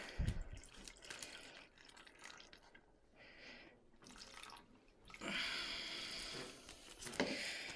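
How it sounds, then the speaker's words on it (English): Water splashes and gurgles in short bursts, then a steady rushing pour for a couple of seconds as water is poured into a plastic bag, close by with faint crinkling and clicks. "And then you're going to want to dump the water in there."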